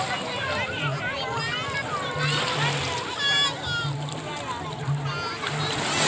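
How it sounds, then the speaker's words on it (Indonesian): A child swimming in the sea at a beach makes irregular splashes and sloshing water, heard under nearby chatter and children's voices. "Mbak Widya lagi berenang, guys."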